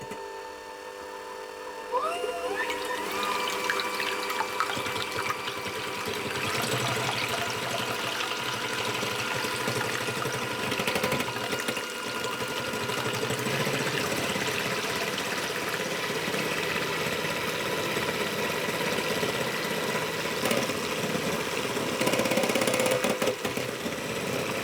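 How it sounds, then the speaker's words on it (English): Ingredients are whisked with a pinch of salt until pale and thick, likely with an electric mixer, giving a continuous loud whirring hum with a constant rattling texture, steady throughout with no speech. "I'm going to whisk those until they're nice and pale and they've thickened a little bit"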